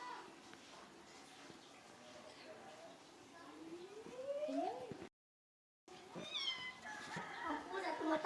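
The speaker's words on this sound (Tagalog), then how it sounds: "Ang pusa tumatakot." A cat meows in a few drawn-out, rising and falling cries, fairly close, against quiet background noise, followed by a brief gap and then more yowls.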